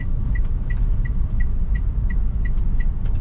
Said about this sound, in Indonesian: Oke, pas hijau, pindah gigi 2.